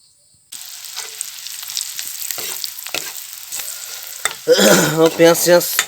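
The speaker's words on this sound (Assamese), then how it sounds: "পিঁয়াজটো ভাজি আছোঁ" Onions frying in oil in a wok for pasta, a steady broadband sizzle broken by bursts of stirring, growing louder and busier with clattering scrapes near the end.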